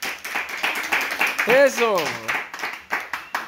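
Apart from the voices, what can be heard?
applause for the winner at a children's birthday party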